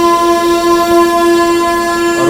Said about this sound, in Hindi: और उस सर आई है विक्रमशिला एक्सप्रेस, आनंद विहार भागलपुर विक्रमशिला